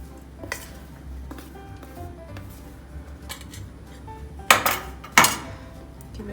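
Dry ingredients are stirred into a wet eggless oat and whole wheat chocolate chip cookie batter, a spoon scraping and knocking softly against the bowl with two sharper clinks near the end, close by and without speech.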